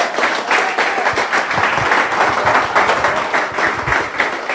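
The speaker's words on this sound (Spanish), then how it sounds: "Dale un aplauso al Señor, por favor." A church congregation applauds, producing a loud, dense, sustained roar of clapping with a rumbling low undertone and no pauses.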